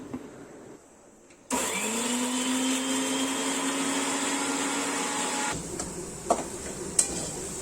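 A kitchen mixer grinder whirs loudly as it grinds ginger, garlic, green chilies, curry leaves and a little cumin into a paste. The steady motor starts abruptly, runs for about four seconds, then cuts off, followed by a few faint clicks.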